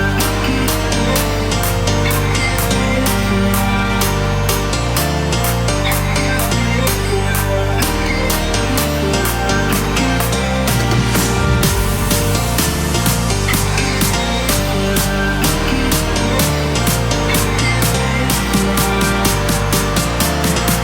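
Future house electronic dance break with a steady four-on-the-floor kick, punchy chord stabs and bright synths, played loud and continuous with no voices.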